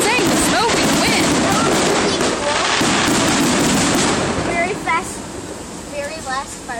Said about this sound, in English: have fireworks that say Happy 4th of July